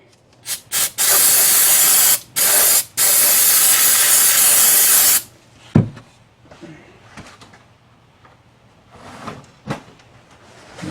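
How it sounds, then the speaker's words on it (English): Carburetor cleaner sprays in short bursts and then a long hissing blast onto a lawnmower engine during a head gasket job, followed by quieter handling clicks and shuffling nearby. "Then I'll take a little bit of carb spray."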